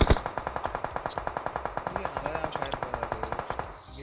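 Rapid automatic gunfire in a video game, a long even burst of about thirty sharp shots in quick regular rhythm that stops abruptly, loud and close.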